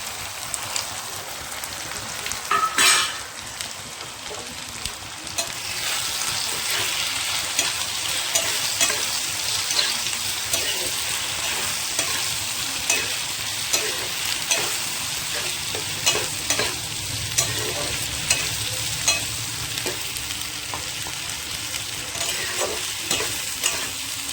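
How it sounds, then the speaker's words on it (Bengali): Marinated mutton brain sizzles and fries in a pan while being stirred, a continuous crackling hiss with regular scraping strokes of the spoon, close and moderately loud, no talking. "ভালো করে কষানো হয়ে গিয়েছে আমার ম্যারিনেট করা মগজটা, এবার আমি দিয়ে দেবো।"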